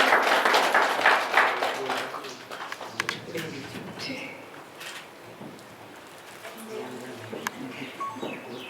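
An audience at a Brahma Kumaris gathering claps to welcome two sisters, a dense burst of applause that fades over the first seconds while someone speaks over it.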